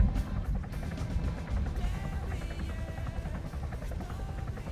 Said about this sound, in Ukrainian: Якийсь гелікоптер чуємо.